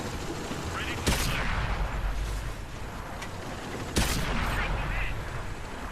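Two heavy, booming shots from a Chinese Type T-34 tank gun firing on the move in World of Tanks, about three seconds apart, over a steady engine rumble and battle noise.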